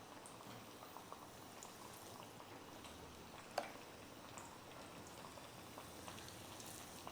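Chayote fritters dipped in batter and frying in hot oil, a steady close bubbling sizzle throughout with one brief sharp crackle partway through.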